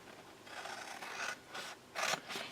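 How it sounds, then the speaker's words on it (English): Scissors cutting through card down to a score line on a Christmas paper craft, a close, faint series of rasping snips and scrapes with no talk. "The next one, I'm going to cut down to the score line."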